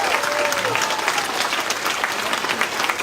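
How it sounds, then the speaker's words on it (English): An audience at a town hall meeting in El Campo breaks into loud, continuous clapping that fills the room evenly for a few seconds. "So let's have a round of applause."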